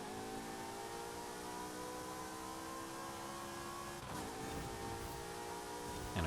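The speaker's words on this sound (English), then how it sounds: "I've chosen the Ferrari F355 Berlinetta, which just sounds absolutely incredible" Ferrari F355 Berlinetta engine in Forza Horizon 5 racing on the Forest Mountain track, a steady loud high-revving scream that holds on throttle, dips briefly near the fourth second as if on a gear change, then climbs again.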